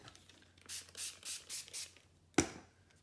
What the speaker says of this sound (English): But I'm spraying the tag